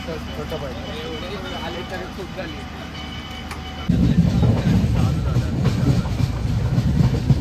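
Passenger train running just after leaving Karmali station in Goa, a steady rumbling clatter of wheels on rails that grows noticeably louder and rougher partway through, heard from on board.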